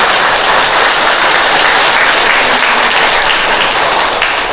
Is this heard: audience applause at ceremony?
yes